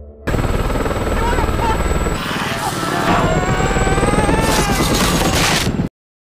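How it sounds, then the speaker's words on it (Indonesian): Helicopter in a zombie film, its rotor hammering in a loud, steady, rapid chop that runs unbroken for about six seconds, thickened by rumbling engine noise and action effects. "saat Flynn mulai menerbangkan helikopter"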